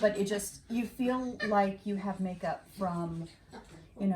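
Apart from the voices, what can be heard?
No everyday noises stand out.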